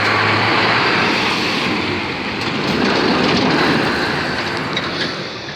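A train passes close by at a level crossing in Deal, Kent, a loud continuous rumble with wheel clatter rising and falling as the carriages go by.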